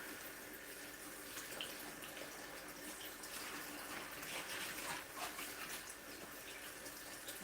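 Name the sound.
washing collard greens in a sink of water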